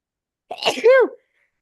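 A single sharp sneeze, a quick breathy intake followed by a loud voiced burst, close and alone in silence.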